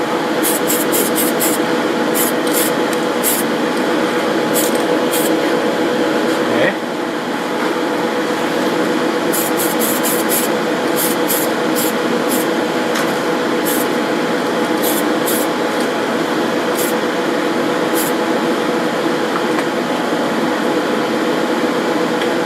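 Spray paint hisses steadily as a second coat goes onto model truck parts for a 1/14 Tamiya Volvo FH16 XL750, in short bursts over a constant room hum.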